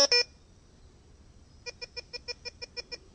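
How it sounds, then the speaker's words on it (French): Tejon metal detector switched back on: a couple of short electronic beeps at power-up, a pause, then a quick regular series of about ten faint pips. "Alors je rallume le détecteur."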